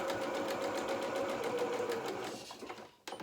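Sewing machine stitching around the arm of a doll jacket, a fast, steady whirring hum close by that slows and stops near the end, followed by a soft click.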